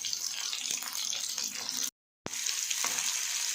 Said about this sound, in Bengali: ফোড়ন দিয়ে দেবো কালো জিরে আর শুকনো লঙ্কা, দিয়ে দেবো কিছুটা পেঁয়াজ